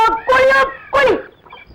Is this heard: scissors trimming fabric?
no